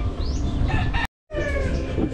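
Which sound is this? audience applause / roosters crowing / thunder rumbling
roosters crowing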